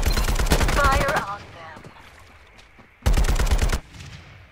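Automatic weapon fire in the battle game Farlight 84, two loud close bursts of rapid shots separated by a quieter gap, with a voice talking over the first burst.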